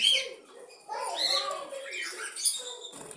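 Parrots chirping and calling at a morning feed of millet with black seeds and roti, with close, bright bursts of squawks and tweets over a few seconds.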